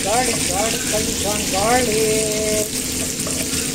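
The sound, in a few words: garlic and onion frying in butter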